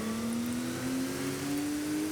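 In Forza Horizon 5, a modern race car's engine holds a steady, loud drone that climbs slowly in pitch as it accelerates, with no voices over it.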